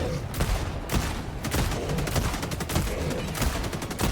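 Sustained rapid gunfire in Helldivers 2, loud and close, with dense bursts of shots packed tightly together and barely a pause, a voice faintly under the shooting.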